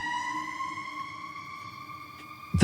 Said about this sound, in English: Those sirens are so loud.